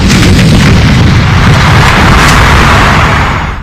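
A howitzer artillery gun fires at the Pokhran firing range in Rajasthan, a very loud, sustained boom with a rumbling roar that fills the whole stretch before starting to fade at the end.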